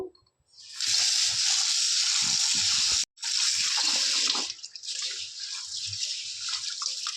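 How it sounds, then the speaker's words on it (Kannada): Running water splashing steadily over horse gram being washed in a kitchen sink, a loud continuous gush broken by one brief pause, with faint handling sounds beneath. "ಇದನ್ನು ಒಂದು ಸರಿ ವಾಶ್ ಮಾಡ್ಕೊಂಡ್ಬಿಡ್ತಾ ಇದ್ದೀನಿ ನೀಟಾಗಿ"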